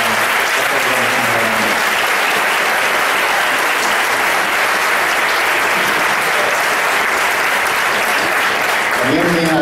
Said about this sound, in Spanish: un fuerte aplauso para nuestro amigo José.